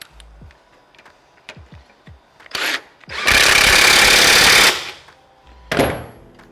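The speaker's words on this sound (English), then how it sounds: "And then we'll tighten the main axle nut down and she is" An impact wrench tightens the main axle nut on a 1989 Harley-Davidson Sportster motorcycle, with scattered tool clicks, then a loud sustained rattling burst of about a second and a half and a shorter burst after.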